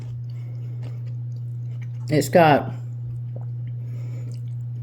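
Crunchy grape salad topped with pecans, cream cheese and brown sugar being chewed, with a short burst of crisp crunching in the middle under a steady low hum and a brief spoken phrase.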